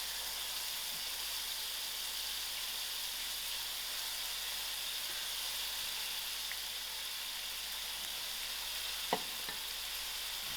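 Onions frying in hot oil for a spicy, sour fish roe chutney, giving a steady, even sizzle that holds throughout with one brief tap or clink near the end.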